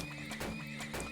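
A horse in the video game Turmoil gives a short whinnying neigh with some clip-clop of hooves, fairly close and clear against a steady game background hum.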